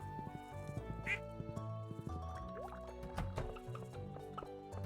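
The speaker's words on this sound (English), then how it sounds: "Hello, ducks." Ducks in Stardew Valley quack several times over a light game soundtrack, with watery dripping blips mixed in, at moderate distance and fairly quiet.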